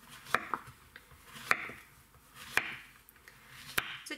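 A knife slices a vegetable into rings two to three centimetres thick on a board, four sharp cuts spaced about a second apart, close and crisp in a quiet room.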